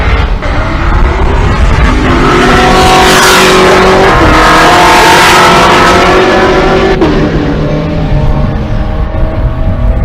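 A Fox Mustang drag race car accelerates down the strip at a Pueblo, Colorado race event, its engine a loud, sustained roar that rises and shifts throughout, filling the whole stretch.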